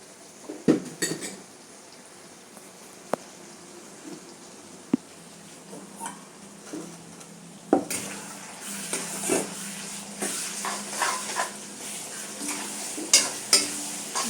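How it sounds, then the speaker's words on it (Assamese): Ginger, garlic and green chili paste fries in a pan for a jackfruit masala, sizzling while a utensil stirs and scrapes with sharp clinks against the metal, the sizzle and stirring growing busier partway through. "এতিয়া এইখিনি খুব ধুনীয়াকৈ মছলাটো মিক্স হৈ যাব আৰু ফ্ৰাই হৈ যাব লগতে।"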